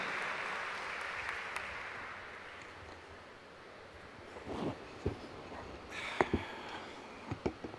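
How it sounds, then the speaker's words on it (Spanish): An audience at an international forum in Monterrey gives a speaker a broad wash of applause that fades away over a few seconds, leaving a quiet room with scattered thumps and handling noises. "Fuerte el aplauso para nuestro amigo Federico Castillo Blanco"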